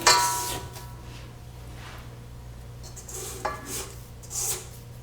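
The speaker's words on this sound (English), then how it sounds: "I'm just scraping down the sides of the bowl." A spatula scrapes the sides of a mixing bowl of creamed butter for apple cider donut batter, with close, intermittent rasping strokes and clinks over a faint steady hum.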